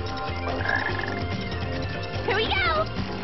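A frog croaks in the jungle stage of the Sonic Heroes video game, with short croaks under game music and character voices.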